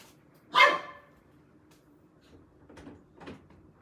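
A dog gives one loud, close bark, followed by a few fainter, softer sounds that could be further barks or muffled movement in an otherwise quiet indoor room.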